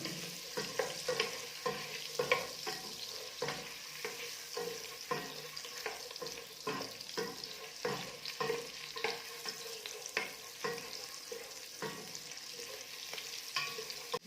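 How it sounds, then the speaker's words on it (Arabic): Chicken pieces stirred as they fry in a knob of butter, a steady sizzle broken by repeated scraping strokes of the spoon, close and continuous with no talking. "هنا جبت الدجاج وحطيت معاه طاف زبده وقاعد نحرك فيهم كيما هكا"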